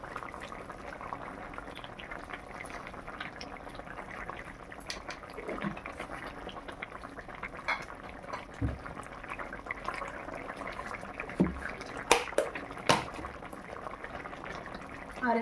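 A pot of fish curry broth made with koi and foloi fish simmers on the stove, giving a soft, continuous bubbling with scattered small pops and a few louder clinks near the end.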